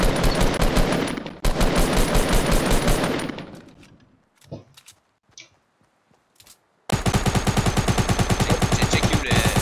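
Rapid automatic gunfire from the video game Fortnite, loud bursts in the opening seconds, then a quieter stretch of scattered shots before a long, steady rattling burst closes out the moment.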